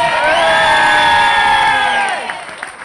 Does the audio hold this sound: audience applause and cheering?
yes